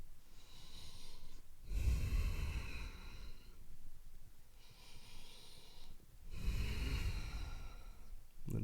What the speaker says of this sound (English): Take 2 more breaths here.